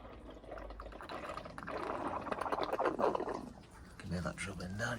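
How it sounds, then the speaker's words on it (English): Bottled water poured gingerly into the driver's side corner footwell of a BMW to trace a leak, a soft continuous trickle and splash running under a man's speech throughout. "pour some water in there."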